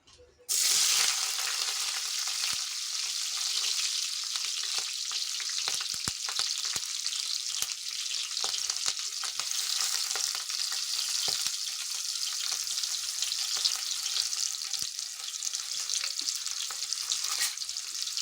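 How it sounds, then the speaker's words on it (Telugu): Onions and green chillies go into hot oil in a pot, and a loud, dense sizzle starts abruptly and runs on steadily for many seconds, with faint clinks and no speech. "నాలుగు స్పూన్లు ఆయిల్ పోసాను ఇందులో ఉల్లిపాయ పచ్చిమిరపకాయలు వేసుకుందామండి"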